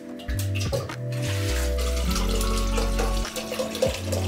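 Tap water runs into a Nespresso Vertuo Next water tank as it is rinsed, a close, steady gush with brief interruptions and a rising tone as the tank fills.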